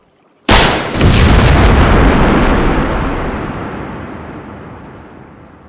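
A gunshot sets off dynamite in a huge close blast: a sharp crack followed by a deep, rolling boom that swells and then fades slowly over several seconds, with no talking.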